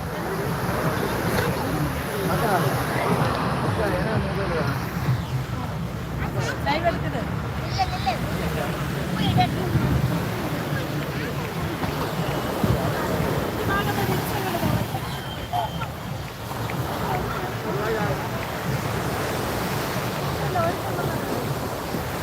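Ocean waves at Kovalam beach on New Year, a broad continuous wash of surf mixed with wind buffeting the microphone and a crowd murmuring nearby, with people talking over it.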